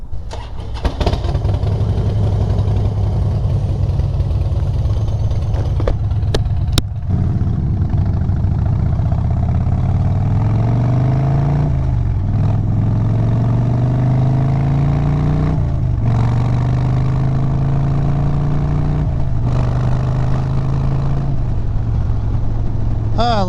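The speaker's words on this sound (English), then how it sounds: "I love the sound of this bike." Harley-Davidson Dyna motorcycle engine rumbling steadily at close range, with a low loping idle that rises in several throttle revs before settling back down.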